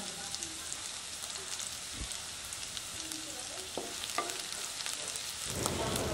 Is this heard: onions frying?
yes